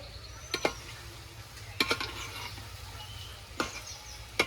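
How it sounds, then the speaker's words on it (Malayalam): Chicken varattu with curry leaves being stirred in a pan, with a few separate scraping clatters spaced out over a quiet, faint sizzle. "എന്നിട്ട് എല്ലാം കൂടി മിക്സ് ചെയ്യാം."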